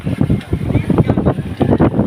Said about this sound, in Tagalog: Ang lakas naman ng hangin.